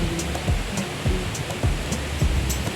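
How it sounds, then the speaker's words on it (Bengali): Strong wind buffets a microphone outdoors at a nature park picnic spot near Kolkata, a steady loud rumbling roar with gusty low thumps throughout and no talking. "খুবই হাওয়া দিচ্ছে এখন"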